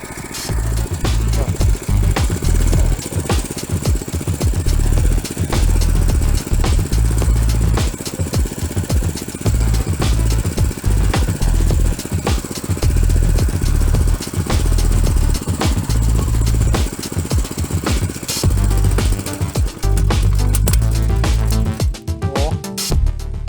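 A petrol motor cultivator tills soil between rows of tall potato plants, its engine chugging loudly and continuously at close range with rhythmic rattling knocks, sputtering and changing near the end.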